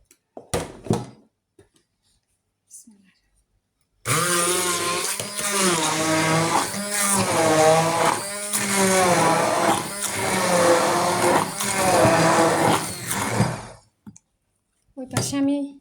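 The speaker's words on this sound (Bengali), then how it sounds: "এখন ব্লেন্ডার করব।" A kitchen blender whirs loudly for about ten seconds as it blends milk for a melon juice, its pitch wavering as the load shifts, after a few clicks and faint handling sounds; a voice speaks before it starts.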